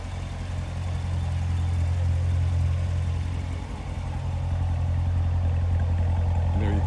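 A 2017 Corvette Z51 3LT's exhaust rumbles at idle with a deep, steady low drone and a slight swell in the middle, heard up close with no talk.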